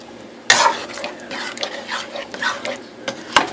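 A spoon scrapes and clatters around a pot of thick, chunky chili, making irregular stirring scrapes with a couple of sharper knocks against the pot.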